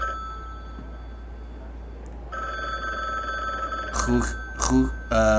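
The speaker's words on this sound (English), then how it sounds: "I'll answer the phone, because that ringing is annoying." An electronic telephone ring in the video game The Bookwalker: Thief of Tales sounds in short repeated bursts over a steady background hum and a faint tone.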